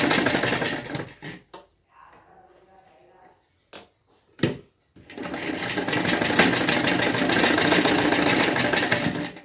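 A sewing machine stitches a blouse sleeve seam in loud steady runs, pausing for a few seconds of quiet with short bursts and handling sounds, then running continuously again to the end.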